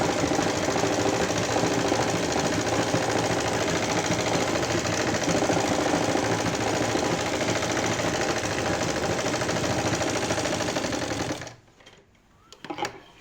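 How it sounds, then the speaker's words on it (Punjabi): Sewing machine running steadily as it stitches straight seams on a poncho design, a loud continuous whirring drone for about eleven seconds before stopping abruptly, followed by faint handling noises. "ਇਹਦੇ ਵਿੱਚ ਆਪਾਂ ਸਾਰੀਆਂ ਸਲਾਈਆਂ ਸਿੱਧੀਆਂ ਹੀ ਲਾਉਣੀਆਂ"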